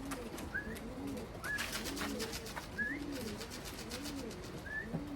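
Racing pigeons coo softly at the loft, low rolling calls repeating every second or so over a faint, steady background hum.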